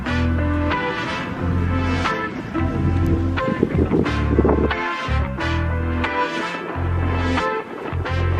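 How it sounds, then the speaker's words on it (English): Wind buffets the microphone at a California beach in strong, rumbling gusts that come and go in pulses throughout. "it's pretty windy out here"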